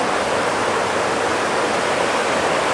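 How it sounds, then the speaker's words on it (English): Constant rushing roar of the Falls of Falloch near Crianlarich, Scotland, a smooth unbroken wash of tumbling water, fairly loud and uninterrupted, with nobody speaking. "think the Falls of Falloch are just right down there"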